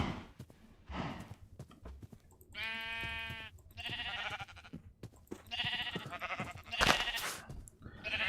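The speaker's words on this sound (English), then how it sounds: "Sheep." Sheep in the video game Minecraft, several loud, close bleats in a row with short pauses between them and some faint background clicks.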